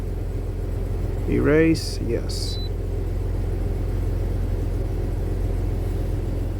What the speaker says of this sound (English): Okay, it started right up, no check engine light.